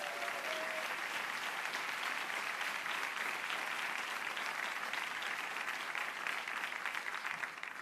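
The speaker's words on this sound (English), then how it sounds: "Let's give him a round of applause." Steady, dense applause from a crowd at a mayoral education speech, greeting the Deputy Mayor, sustained at even volume with distant clapping that fills the whole stretch.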